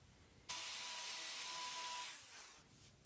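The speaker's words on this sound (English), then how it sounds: "We're going to do some more trimming here to make sure, but it healed much better than I thought it would." A cow's hoof being trimmed during treatment of a healed lesion, giving a loud, steady grinding whir that starts abruptly, holds for about two seconds, then fades out.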